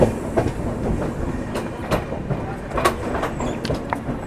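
The Mumbai CSMT–Hazrat Nizamuddin Rajdhani Express rolls past close by arriving at Gwalior Junction in fog, with rhythmic clacking of wheels over rail joints and a steady rumble, no talking.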